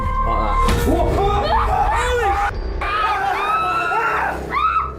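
A group of paranormal investigators shriek and yell in panic together as a door swings open on its own, their loud, overlapping screams and cries filling the whole stretch.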